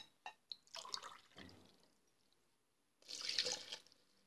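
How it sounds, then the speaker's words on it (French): Water from four glasses poured into a food processor holding ingredients for homemade plant-based grain milk, with a few light splashes early on and a louder, fuller pour near the end. "Je vais mettre les 4 verres d'eau."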